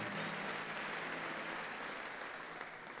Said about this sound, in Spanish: Un aplauso fuerte al Señor y a la Santísima Virgen María.